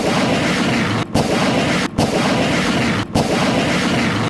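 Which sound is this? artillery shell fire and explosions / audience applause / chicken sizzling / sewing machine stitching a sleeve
artillery shell fire and explosions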